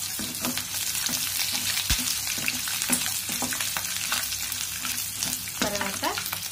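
Ginger and green chili pieces fry in hot oil in a pan with a dense, continuous crackling sizzle. Repeated spoon scrapes and clinks sound throughout. No talking.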